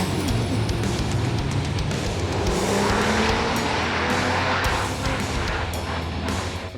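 A diesel drag truck launching down the drag strip at a desert diesel nationals event, with a loud, sustained engine roar and tire noise that holds strongly from start to finish.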